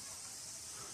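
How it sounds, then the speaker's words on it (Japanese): Cicadas sing in a forest beside a river at an outdoor music festival, a steady high, dense drone that stays even and fairly faint throughout with no pauses. "セミの声を聞きながら一杯飲みたいぐらいですよ"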